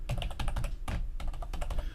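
Close, brisk clatter of keys on a computer keyboard as a server console command is typed for a Minecraft server, a quick uneven run of sharp clicks with a short pause near the middle, no voices.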